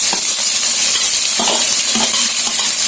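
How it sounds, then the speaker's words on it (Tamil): Two large, finely chopped onions fry in ghee for a mutton curry, giving a close, continuous sizzle broken by stirring scrapes against the pan. "நான் பொடியா நறுக்குன 2 பெரிய வெங்காயம்"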